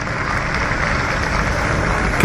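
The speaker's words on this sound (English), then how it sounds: "Getting rapturous applause there." Crowd applauding clog dancers at a busy town market in Clitheroe, Lancashire: a steady, dense wash of clapping held at an even level throughout, close and continuous.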